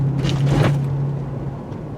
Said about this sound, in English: we're going to take some mild speed bumps around 20 miles per hour to evaluate the suspension performance and impact